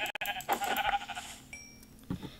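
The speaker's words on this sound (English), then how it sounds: "Let's go kill the sheep." Sheep bleat in Minecraft, the game's wavering animal cries sounding twice, fairly close, with brief clicks and other game sounds between them and no talk over them.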